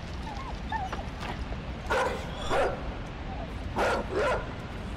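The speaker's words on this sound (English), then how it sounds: "A bad dog? Stay away. He's so fast." Dog in the video game Inside barking, with a few sharp, loud barks in two pairs over a noisy game background, with small whimpering yips between them.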